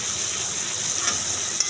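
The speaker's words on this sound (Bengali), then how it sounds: "এটাকে ভালো করে নেড়ে চেড়ে কষিয়ে নেব সুন্দর করে" Small-cut potatoes sizzling in a hot pan while being stir-fried, a steady broad hiss with no talk.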